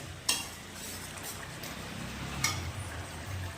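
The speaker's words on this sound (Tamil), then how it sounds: "வெல்லம் சேர்த்து கலக்கி கொதிக்க விடுங்க" Soft, continuous bubbling and sizzling from a pot of bitter gourd curry with jaggery, with two light clinks of a utensil against the metal as it is stirred.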